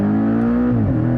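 Flat-four engine of a 2018 Porsche 718 Cayman GTS revving close-up, a loud harmonic exhaust note that holds steady and then drops in pitch as the revs fall, with no talking.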